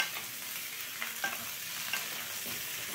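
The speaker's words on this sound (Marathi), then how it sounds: "आपण त्याला सतत हलवत शॅलो फ्राय करणार आहोत।" Okra and onion shallow-fry over medium flame for a Bhindi Do Pyaza, a soft continuous sizzle with faint scraping clicks as the pan is stirred, steady and fairly quiet with no voices.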